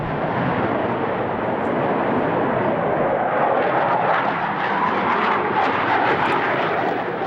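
Saab J35 Draken, a Swedish Cold War jet fighter, roaring past at an air show, with a loud, steady broadband jet rumble and hiss sustained throughout and no talk over it.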